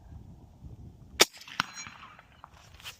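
A single sharp gunshot from a custom .308 Win AR-10 rifle fired at a hanging steel target outdoors, followed by a quieter metallic ping and fading echo.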